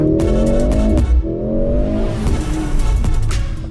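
Mercedes C63 hybrid sedan, a 2.1-ton car, driving hard on a tight autocross track, with its engine revving up in two rising pulls and a tire squeal or skid between them, loud and close, with no talk.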